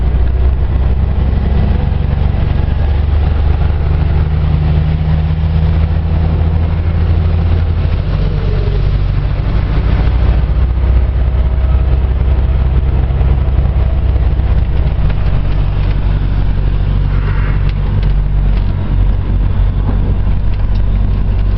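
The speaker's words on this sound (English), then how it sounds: "This is some road to have a lorry on." Lorry driving on a narrow twisty road in Ireland, a steady loud low engine drone and rumble heard from inside the cab, continuous throughout with no talking.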